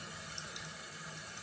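Cool water runs steadily from a bathroom tap into a sink while someone wets their face, a constant close hiss and splash with no speech.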